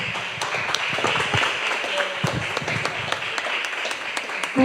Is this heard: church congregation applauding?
yes